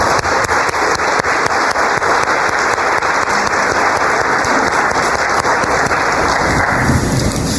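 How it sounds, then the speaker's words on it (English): Continuous audience applause for part-time faculty award winners at a 100th birthday celebration, loud and dense like heavy rain, thinning slightly toward the end. "Please join me in a round of applause for our part-time faculty award winners."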